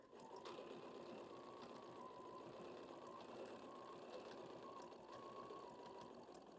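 A Bernina 7 Series sewing machine stitching a row of quilting, running continuously with a steady rapid mechanical whir and hum, close and even throughout, no talking.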